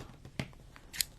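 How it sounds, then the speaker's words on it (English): Sharp scissors snip through fabric fringe, a few quick crisp cuts close by, isolated and unaccompanied by speech. "All right, enough fringe to cut."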